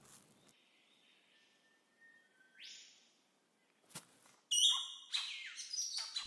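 A bowerbird calls in Australian jungle with clear, thin whistled notes and sliding tones, then a sudden burst of loud, rapid chirps and chatter close by after a quiet stretch.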